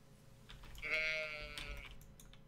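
A single sheep bleats in the farming video game Stardew Valley, one drawn-out wavering call, fairly quiet and alone.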